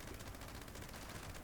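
Rapid sustained gunfire from a Gauss minigun in the game Fallout 76, a dense continuous stream of shots at steady volume with no talking.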